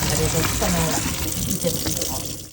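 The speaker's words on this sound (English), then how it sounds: "And I have some water running there." Water runs from a kitchen sink tap in a steady, loud, close gush that continues without a break and tapers slightly at the end.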